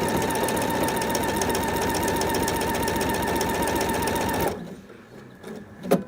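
A sewing machine runs steadily and fairly loud as it stitches quilt pieces, then cuts off abruptly, leaving faint handling noises and a soft click near the end.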